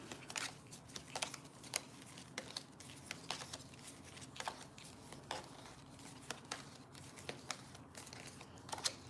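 A deck of cards is shuffled quietly and close by, with soft riffling flutters and crisp snaps recurring at irregular intervals over a faint background hiss.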